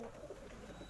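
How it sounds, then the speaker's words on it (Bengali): A male pigeon gives soft, low cooing, faint and close over a quiet background, lasting only a moment. "এটা একটা নর পায়রা"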